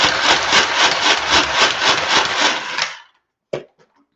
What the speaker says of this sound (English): And as I chop it, I'm going to try and get quite a bit of torque into the rotation so it chops down my ginger